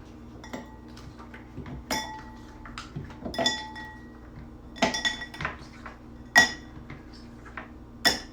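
Ice cubes drop into a Negroni mixing glass, making a series of bright close clinks and clatters with scattered sharper hits.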